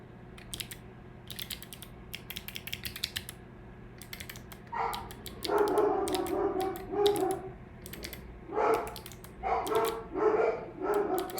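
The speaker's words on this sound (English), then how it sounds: "the dogs are barking" Dogs bark in several bursts from another room of a home, fairly quiet and somewhat distant, while keyboard typing and clicking clatter nearby.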